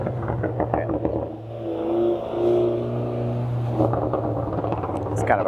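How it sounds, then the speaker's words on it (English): A small car's engine revs, its droning hum climbing and easing back in steady swells, with a faint voice-like murmur mixed in. "It's kind of a cool sounding little car."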